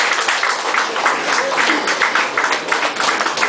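An audience at a book release event applauds, dense steady clapping from many hands held at an even level for a few seconds.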